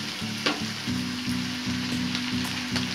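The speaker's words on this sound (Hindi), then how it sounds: "हम वेजिटेबल्स एंड नूडल्स को अच्छे से मिक्स करेंगे और इसे 2 to 3 minutes हम हाई फ्लेम पे फ्राई करने के बाद" Vegetables and noodles stir-frying on a high flame, a close constant sizzle broken by rhythmic scraping and tossing strokes about every half second.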